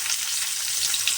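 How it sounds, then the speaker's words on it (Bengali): Green beans (sheem), coated in salt and turmeric, fry in hot oil with a loud, dense, continuous sizzle that stays steady throughout. "শিমগুলো তেলের মধ্যে দিয়ে শিমগুলোকে কিন্তু প্রথমে খুব ভালোভাবে একটু ভেজে নিতে হবে।"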